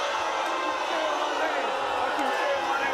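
Studio audience at the Maury talk show cheering and hollering as a steady, dense wall of crowd noise that fills the room throughout, with voices mixed in.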